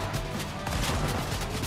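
Gunfire in Fortnite, a rapid burst of repeated shots in quick succession across under two seconds, loud and close, layered over a dense rumbling game background with no clear talk.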